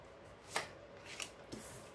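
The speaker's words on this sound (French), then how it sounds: "remélange un petit coup" Tarot cards being shuffled in short, quiet bursts, three brisk riffles spaced across the moment in a calm, close setting.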